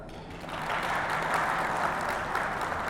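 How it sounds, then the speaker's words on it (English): Audience applause in a lecture hall at a judicial session on arbitration in Pakistan, a steady wash of clapping at moderate distance that holds evenly for a few seconds without talk over it. "I think that deserves a clap."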